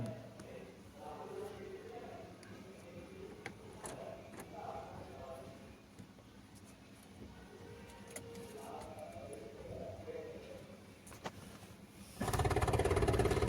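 A motorcycle engine on a farm outing roars to life loudly and close right at the end, after a long stretch of quiet outdoor ambience.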